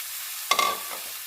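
Wood ear mushrooms are stirred into sizzling oil in a pan. A single sharp scrape and stir interrupts a quiet, steady frying hiss, followed by a brief burst of louder sizzling.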